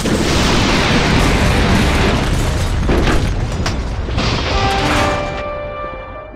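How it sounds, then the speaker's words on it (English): Building being destroyed in the Freedom Force video game: a loud, continuous roar of explosions and crashing debris that holds steady before thinning and fading at the end. "And after leveling the entire building,"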